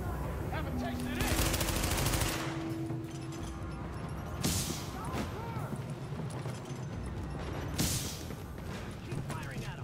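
Bursts of automatic gunfire in the video game The Division crack out near and loud, with sharp shots spaced across the scene amid mechanical clatter and voices talking between volleys.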